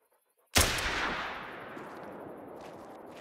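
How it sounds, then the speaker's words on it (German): A single loud gunshot from a 10mm Davani pistol in the hunting game theHunter: Call of the Wild cracks sharply after a brief silence, then rolls off into a long fading echo. "Kann ich höchstens versuchen, den jetzt hier mit der Waffe anzuschießen, dass der vielleicht aggressiv wird."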